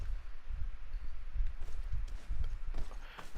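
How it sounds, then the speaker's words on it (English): Horses in the Greedfall video game, with low, uneven hoof thuds like clip-clopping and stamping, fairly close and continuous, against a soft ambient background. "probably where they keep horses, I suppose"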